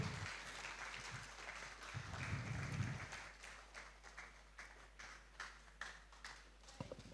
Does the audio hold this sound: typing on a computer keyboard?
no